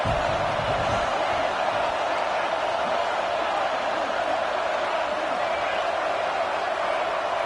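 A stadium crowd roars in the NCAA 25 college football video game on third down, a steady, dense wall of cheering noise that holds at an even level throughout.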